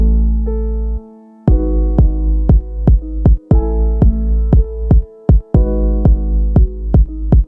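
Electronic kick drum pattern in a verse of a song, steady deep thumps arriving after a sustained low tone, layered with held synth chords and briefly dropping out twice.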